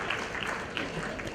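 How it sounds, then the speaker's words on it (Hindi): Audience applause at an education foundation event, a dense, steady wash of clapping hands filling the whole moment at even loudness, with a few sharper claps standing out near the start and middle. "एक बार जोरदार तालियां बता दीजिए"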